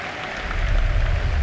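Audience applause swells at a Gaming Gladiators esports match, a broad steady wash of clapping from a large crowd that grows louder after the first half second and holds.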